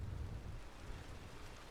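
Rainfall with a deep thunder rumble and wind in Red Dead Redemption 2, a steady wash of rain over a low, rolling roar, with no voices.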